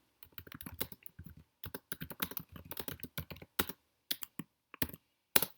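Close-up computer keyboard typing on an Office.com form, quick clusters of crisp key clicks broken by short pauses, with a few louder single presses like the Enter key, with no talk.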